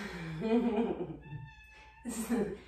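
A house cat meows a few times close by during a home yoga session, its short calls rising between a calm instructor's spoken directions.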